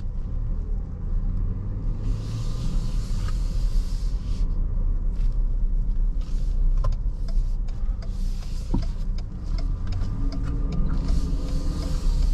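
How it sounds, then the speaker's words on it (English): A 2021 Ford Ranger XLT pickup truck with Sport Appearance Package driving, heard from inside as a steady low engine and road rumble with faint clicks and cabin noises throughout, no talking. "Let's go ahead and take this Ranger for a spin and see how it is."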